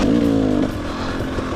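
Two-stroke or four-stroke dirt motorcycle engine revving hard while riding, a loud close throttle burst that eases to a steadier drone after a moment.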